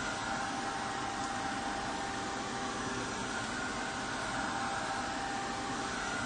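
A hair dryer drying a craft project on a vintage book cover runs at a steady, unbroken blowing hiss with a low motor hum, close and constant.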